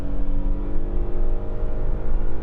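Steady engine drone inside the cabin of a 2021 Audi SQ5 Sportback in dynamic driving mode, a loud continuous low hum with faint whirring, no talk over it.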